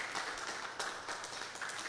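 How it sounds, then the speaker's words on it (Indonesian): Applause for the panelists at a Lombok Utara tourism ambassador pageant, a steady wash of many hands clapping at moderate distance, fairly faint and even throughout. "tepuk tangan untuk"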